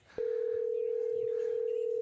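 A steady telephone dial tone sounds while a call is placed to Coach Bowling. It starts abruptly and holds loud and unbroken over faint background murmur.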